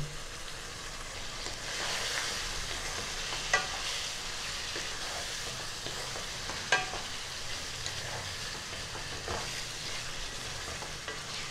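Spice paste made with onion paste and cumin powder is stirred and sautéed in a pan for cauliflower butter masala, giving a soft, continuous sizzle with occasional sharp clicks of the spatula against the pan.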